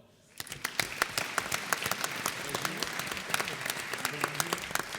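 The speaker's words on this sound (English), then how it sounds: "You can applaud." A symposium audience breaks into applause at an awards mention, dense crowd clapping rising quickly from near silence and holding steady with sharp individual claps standing out.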